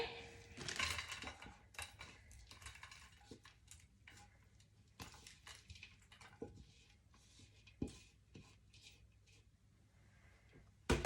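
A sticky granola bar mixture is scraped and dumped into a baking pan. There are scattered clinks and knocks of a utensil against the pan and a soft patter, fairly quiet and close, with no talking.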